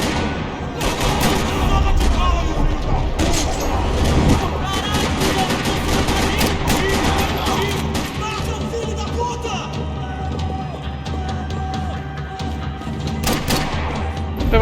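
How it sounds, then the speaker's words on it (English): Dense gunfire rattling through a parking lot in Max Payne 3, loud continuous volleys of automatic and single shots with heavy low booms, sustained throughout. "Another parking lot rattling with gunfire."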